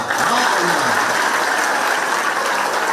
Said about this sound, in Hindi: एक बार हमारी प्राची बहन के लिए ताली बजा।